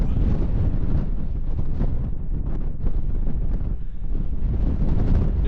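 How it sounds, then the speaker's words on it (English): Raw wind on an exposed road near Uppermill, Saddleworth, roars loudly and continuously against the microphone in a dense low rumble, with no voices heard. "There's that wind raw now."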